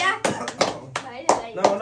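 A family clapping hands during a surprise wheel game at home, with about five distinct bursts of claps spaced irregularly, a voice and other speech mixed in close by.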